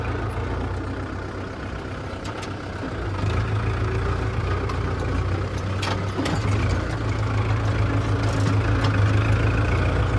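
An engine rumbles steadily as a vehicle carrying paddy drives around a farm field. The low, continuous drone grows a little louder partway through, and no voices are heard.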